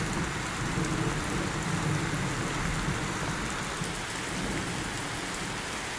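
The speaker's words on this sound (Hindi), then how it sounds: "बारिश है" Steady rain falls and patters on surfaces in a dense, continuous hiss, with a faint low rumble underneath.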